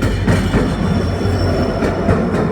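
Loud, close rumble of a train starting to move out of a station near Boko, Assam, with rhythmic clatter of wheels on rails and a faint high squeal, no voices.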